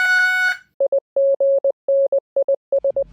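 A homemade astable transistor multivibrator oscillator driving a speaker through a third transistor, keyed in Morse code: after a brief buzzy tone, clean steady beeps come in short dits and longer dahs in an uneven, hand-sent rhythm.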